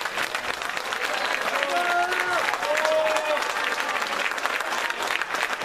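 Applause for the conductor at a Christmas concert: a dense, sustained clapping from a crowd filling the hall throughout, with a few faint voices mixed in.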